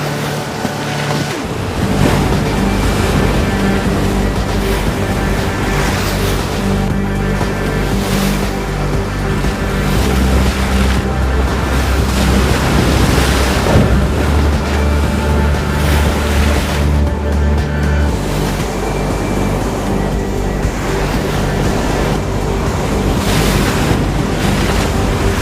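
Ocean waves breaking along the Moroccan surf coast near Taghazout and Anchors Point, a steady loud roar of surf with continuous wind buffeting the microphone, no voices.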